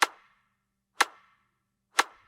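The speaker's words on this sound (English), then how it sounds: "And our reverse clap all together sound like this." Layered electronic claps with a reverse clap snap three times at a steady one-per-second pace, each a crisp, bright crack with a short decaying tail and silence between, fairly quiet overall.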